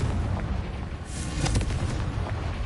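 A booming fire-spell explosion in Hogwarts Legacy, the Confringo curse, sounds as a dense, rumbling blast with crackling bursts that fill the short moment.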